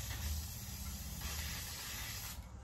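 Filter oil sprays from an aerosol can onto a small motorbike air filter outdoors, a soft, fairly quiet continuous hiss with faint breaks in the spray, no voices.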